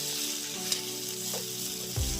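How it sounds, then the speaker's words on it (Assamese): Pork pieces fry in a pan without oil, a constant close sizzle lasting a couple of seconds with a light stir or scrape near the end. "মই এতিয়া 2 মিনিটমান এনেকৈ ভাজি থাকিলোঁ"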